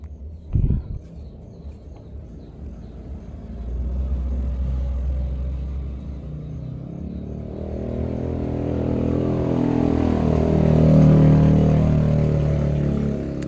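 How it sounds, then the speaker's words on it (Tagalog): Vehicles pass along a nearby main road: a low engine rumble swells and builds, growing louder and denser toward the end as motorcycles and cars go by, with no talking. "maraming mga sasakyan na dumaan guys dahil po sa kabilang kalsada po guys"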